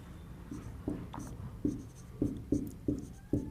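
A pen writes on paper while a maths problem is worked through, giving a series of soft, close scratching strokes with short taps between them, repeating at an uneven rhythm.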